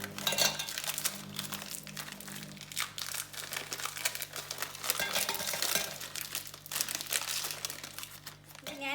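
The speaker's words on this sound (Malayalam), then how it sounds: "മിക്സിയുടെ ജാറിലേക്ക് നമുക്ക് ഈ ഓറിയോ ബിസ്ക്കറ്റ് എല്ലാം ഇട്ട് കൊടുക്കാം" Oreo biscuits tipped into a mixer jar, giving rustling wrapper crinkles and light clinks and crunches against the jar, fairly quiet and close.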